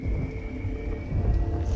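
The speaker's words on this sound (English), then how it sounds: "I love the rain." Heavy rain and rolling thunder fill a scene in the video game Prospekt: Zero Remake, with a steady dense hiss over a deep low rumble that swells slightly toward the end.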